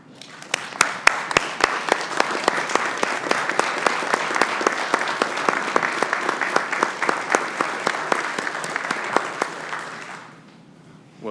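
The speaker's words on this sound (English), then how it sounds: "Thank you for the applause," Loud audience applause at a university system board of regents meeting, dense, continuous clapping with sharp individual claps standing out near the front, holding steady for about ten seconds before abruptly dying away.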